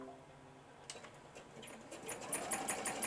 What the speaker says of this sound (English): I'm going to sew this, so just bear with me. It shouldn't take me long. If the machine acts right, it won't.